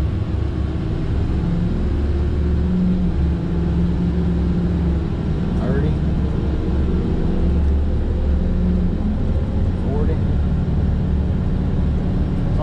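A dump truck hauls a trailer loaded with an excavator, about 41,000 pounds, across flat ground, its engine a steady, heavy low drone throughout.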